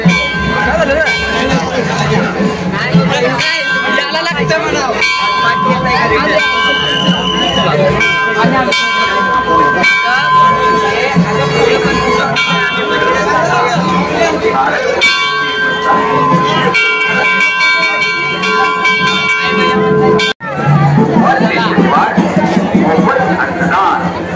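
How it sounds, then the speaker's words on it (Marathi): A large crowd mills about at a village temple fair, a constant loud hubbub of chatter with bells ringing steadily through it and voices close by. "इकडं भरपूर गर्दी आहे बघा"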